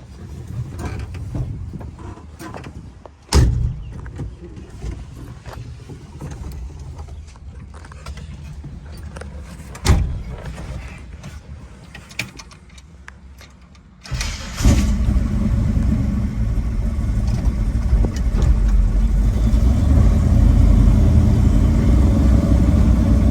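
A 1972 Chevrolet Blazer with a fuel-injected 502 Ram Jet V8 and its windows rolled down: mechanical clunks and creaks, a couple of sharp knocks, then the engine fires up and settles into a loud, steady, rumbling idle.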